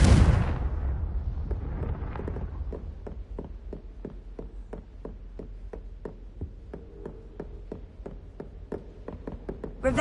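A fire spell blast in Hogwarts Legacy opens with a loud burst, decaying into a long trail of regular crackling ticks that fade slowly and pick up again at the very end.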